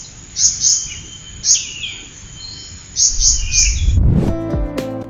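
A small pentis kumbang bird gives a series of thin, high chirps in short clustered bursts, then a different, lower tonal sound takes over near the end.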